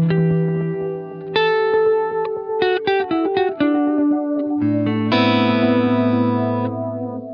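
Electric guitar through a Keeley ECCOS delay pedal, flange-modulated delay tails set to a darker, warmer tone; sustained chords and single notes ring out with swirling repeats, continuous and close without speech.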